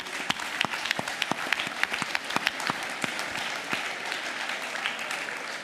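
Lively audience applause at a sea summit session on energy and climate, with many individual claps standing out crisply within a steady wash of clapping.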